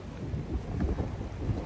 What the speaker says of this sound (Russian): вышло и ветер задул